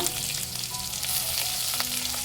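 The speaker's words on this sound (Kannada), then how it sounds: "ಇವಾಗ ಸ್ಲೈಸಲ್ಲಿ ಸಣ್ಣದಾಗಿ ಕಟ್ ಮಾಡಿಕೊಂಡಿರುವಂಥ 2 ಈರುಳ್ಳಿನ ಹಾಕ್ಕೊಳ್ಳೋಣ" Two thinly sliced onions dropped into potatoes frying in a pan, producing a loud, continuous crackling sizzle up close, steady throughout with faint stirring and no speech.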